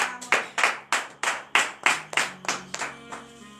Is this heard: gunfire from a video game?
no